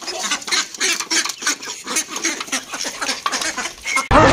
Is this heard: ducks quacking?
yes